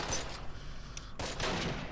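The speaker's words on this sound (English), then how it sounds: "we've got plenty of covering fire on that building, plenty of smoke" Covering fire from a squad in the Close Combat war game, with a fusillade of gunshots in a burst near the start and a heavier volley after a short lull, crackling steadily throughout.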